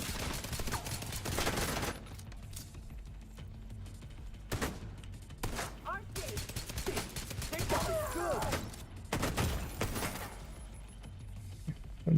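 Bursts of video game gunfire crackle in short volleys, with louder clusters spaced through the stretch and quieter rattling shots between them.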